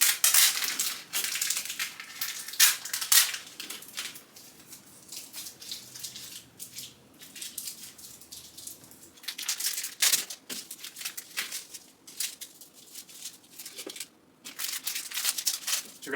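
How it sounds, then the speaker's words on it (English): Crinkly plastic packaging rustles and crackles up close as tape is peeled off the outer wrapping of packets, irregular bursts with short pauses, no talk. "remove the tape in the outer packaging of these packets"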